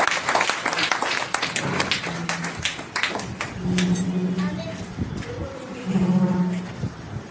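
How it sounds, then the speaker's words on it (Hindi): Audience applause at a Hindi book launch and award ceremony, scattered clapping that builds and fades while a voice keeps talking over it. "तालियां तो बजा दीजिए कि खूबसूरत।"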